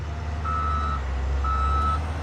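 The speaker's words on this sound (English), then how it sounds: "A concrete mixer." A concrete mixer truck sounds its reversing alarm, two clear, steady beeps at an even interval over a loud, low engine rumble, with no voices.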